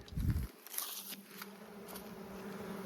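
Honey bees buzzing in a hive box during a spring inspection, a soft continuous droning hum heard close, with a brief knock or handling sound at the start.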